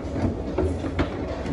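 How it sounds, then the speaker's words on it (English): A toy train runs in a Christmas display at Macy's Herald Square in New York, giving a steady low rumble with soft, repeated clicks, heard up close over store background noise and with no talk. "This one's got a train."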